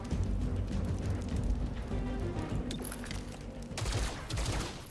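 Rapid bursts of gunfire in the video game XCOM: Chimera Squad, a dense crackling volley running throughout with a sharper surge near the end, fairly loud and without talk.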